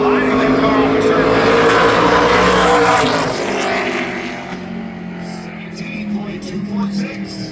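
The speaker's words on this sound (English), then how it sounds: "Sliding the car on the turn." An ARCA Menards Series race car at Berlin Raceway slides through a turn in qualifying, its loud engine roaring close by before fading away as the car moves off, with commentary over it.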